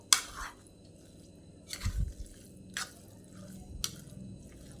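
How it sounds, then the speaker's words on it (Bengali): Papaya pieces are mixed by hand with cornflour, giving a few soft, wet squishes and dabs spaced out over quiet background, close by and faint. "এভাবে সুন্দর করে মেখে নিচ্ছি এরপর আমি এর মধ্যে কর্নফ্লাওয়ার দেব"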